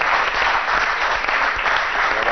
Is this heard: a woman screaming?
no